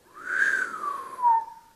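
A person whistles in surprise, a single rising then gently falling tone lasting under two seconds, close and clear with no talking.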